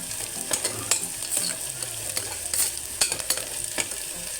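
Onions fry in a hot pan for chana masala, a constant close sizzle with frequent sharp spatula scrapes and stirring knocks at an uneven rhythm, no voices.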